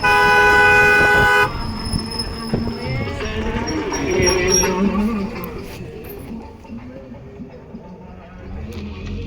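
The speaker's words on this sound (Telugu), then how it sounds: "టింగ్ టింగ్ టింగ్ టింగ్ ఈ హారన్ కొట్టుకుంటా." A vehicle horn honks on a downhill mountain road near Dharamshala, sounding loud and steady at the start before a mix of road noise and a voice takes over.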